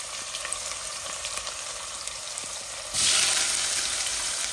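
Onions frying in a pan for a Bangladeshi fish curry, a steady close sizzle that jumps noticeably louder about three seconds in as they hit the hot oil, with no talking.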